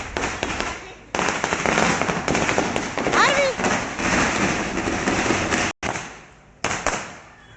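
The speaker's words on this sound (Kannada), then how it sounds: "ಎಲ್ಲರೂ ದೀಪವನ್ನು ಕಚ್ಚಬೇಕಾದ್ರೆ ಹೊರಗೆ ಪಟಾಕಿಯನ್ನು ಹೊಡಿತಾ ಇದ್ರು" Firecrackers burst outside a temple during a Deepotsava lamp festival, a dense run of loud crackling pops that fills most of the stretch, with people talking underneath and a short silent gap near the end.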